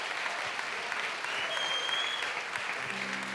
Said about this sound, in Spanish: Si le van a dar un aplauso al Señor,